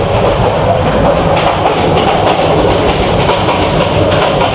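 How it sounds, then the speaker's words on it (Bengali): The Subarna Express train rumbles steadily along the rails from Chittagong toward Dhaka, loud and continuous, with a rhythmic clatter of wheels throughout. "এই যে আমাদের ট্রেন ছুটে চলছে দুর্দান্ত গতিতে"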